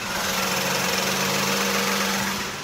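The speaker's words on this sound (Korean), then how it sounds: "그럼 바로 엔진 사운드 담아드리도록 하겠습니다." A Hyundai Genesis EQ900 with its 3.8 GDI engine idles with the hood open, a smooth, steady, even hum with a faint low drone, recorded close and continuous with no voices.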